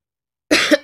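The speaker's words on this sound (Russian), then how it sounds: "Знаете, почему я кашляю?" A single short, close cough bursts out of silence, with a second harsher push at the end.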